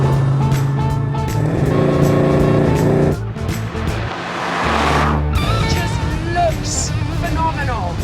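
A classic Chevrolet Camaro's engine hums steadily while driving, with the pitch shifting as gears change; tires hiss on the road and a voice speaks briefly.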